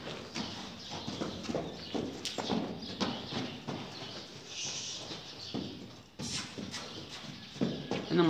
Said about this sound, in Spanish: Trote quiero, señores.